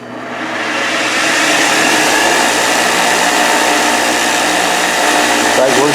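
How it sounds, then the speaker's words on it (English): An old bench grinder that has sat outdoors for a while spins up from quiet to a loud, steady whine and hum, holding an even, continuous drone close by. "the bench grinder, there again, it's been sitting out for a while"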